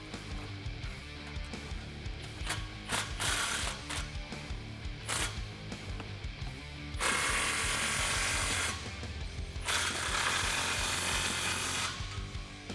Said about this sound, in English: rotate your clamps up, and tighten them down with a 15mm socket